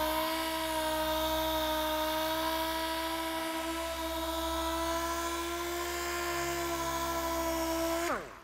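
Dual-action polisher working on car paint, a steady high-pitched electric whine with a constant hum running throughout, close and loud, cutting off near the end.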